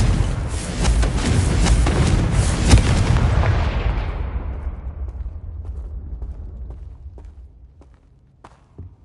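Confringo fire spell blasts in the Hogwarts Legacy game: a loud burst of booming explosions that rumble and decay over several seconds, followed by faint scattered clicks and footsteps.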